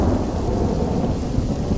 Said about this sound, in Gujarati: હવે ફરી એક વખત અમદાવાદમાં વરસાદ આવ્યો છે